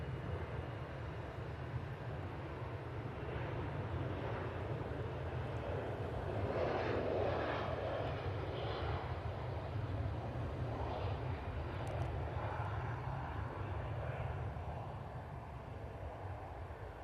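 A Boeing 737-300 airliner at Manchester Airport gives a steady, broad jet roar with low rumble, swelling slightly mid-passage and easing off toward the end, heard from a moderate distance without talk.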